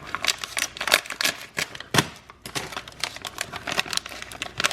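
Close, crisp snipping and crinkling of plastic packaging being cut with scissors, with irregular cuts and rustles, fairly quiet and with no voices.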